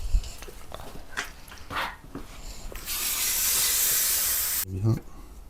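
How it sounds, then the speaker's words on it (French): Brake cleaner sprayed onto a motorcycle oil filler cap during an oil change gives a loud, steady aerosol hiss lasting under two seconds, with light clicks and handling noises before and after. "Petit coup de nettoyant frein."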